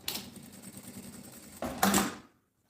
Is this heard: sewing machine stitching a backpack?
yes